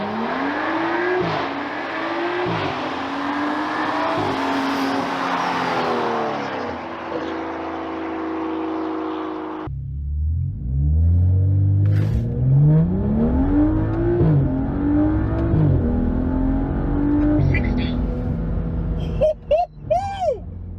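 A car with a stock B58 engine accelerates hard through the gears on a cold evening run, its exhaust roaring loudly with rising pitch sweeps and brief shift breaks, heard from inside the car.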